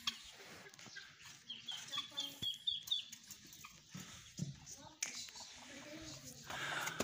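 Hens cluck and murmur nearby in scattered bursts, with a person calling out over them and rustling movement around the birds.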